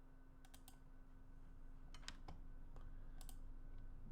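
Quiet computer keyboard keys are pressed as shortcuts while a train simulator runs, a few sparse clicks in small clusters over a steady low background hum.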